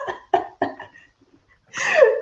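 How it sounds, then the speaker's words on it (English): A person coughs three times in quick, close bursts, then after a short pause lets out a longer, raspy throat-clearing or strained vocal sound. "my throat is tickled and it wants to cough so badly"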